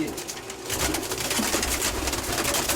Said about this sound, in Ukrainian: Рябі, ось рябі, голуби